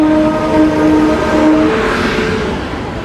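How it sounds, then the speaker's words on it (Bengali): Black Diamond Express train pulling into Bardhaman station, a loud, steady rumble of rolling railcars with sustained horn-like tones through the first half, fading slightly toward the end. "22387 ব্ল্যাক ডায়মন্ড এক্সপ্রেস আমাদের বর্ধমানে ঢোকার টাইম ছিল হচ্ছে 7:46"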